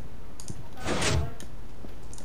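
A Minecraft piston door sliding open or shut in a player-built piston house, one short mechanical whoosh and thunk lasting about a second, standing alone against quiet background hiss.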